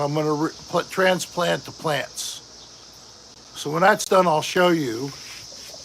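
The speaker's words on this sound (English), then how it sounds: "Yes, that noise is the cicadas." Cicadas buzz steadily outdoors, a high continuous drone running through the whole stretch, loudest in a quiet gap between bursts of someone talking nearby.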